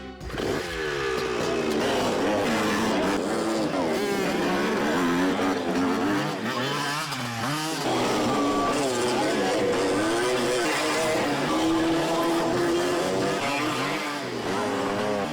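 Loud, continuous motorcycle engine revving with shifting pitch as stunt bikes rev and accelerate nearby at a stunt school, with tire squeals and faint voices mixed in.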